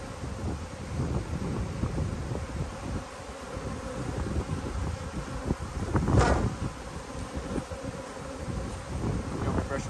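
A honey bee swarm buzzes steadily around a hive outdoors, a dense continuous drone with light wind noise and brief quiet voices nearby.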